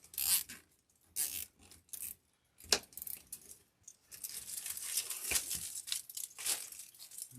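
Zip ties are pulled tight on a lemon-decorated door wreath: a series of quick, close ratcheting zips and plastic crinkles come in short bursts, separated by brief quiet gaps.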